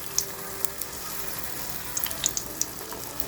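Anarase rice pancakes fry in oil on a low gas flame, giving a steady close hiss with scattered small pops and crackles throughout.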